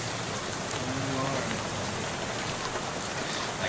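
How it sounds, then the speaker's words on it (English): Steady rain falls throughout in a night scene of the game Shadows over Loathing, a dense, even hiss of drops on surfaces with no gaps, fairly loud and close, with a few faint tonal blips behind it. "Rain that night."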